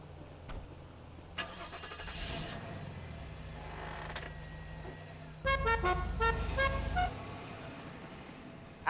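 Car horn in GTA 5, on a flashy car styled as the opposite of the General Lee, sounding in a few short blasts with a sustained honk near the end, loud over a quiet engine rumble.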